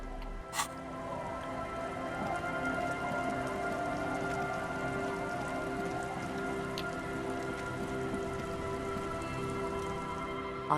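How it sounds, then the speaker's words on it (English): Steady rain falls in the game Disco Elysium, a soft continuous patter of drops on surfaces with occasional louder drips, moderately quiet and unbroken, over a faint low musical hum. "it is raining out"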